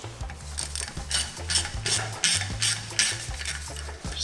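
Repeated ratcheting clicks come from removing brake rotor bolts on a BMW F30 during a Brembo big brake kit install. The clicking is close and rhythmic, with metallic scraping and no talk.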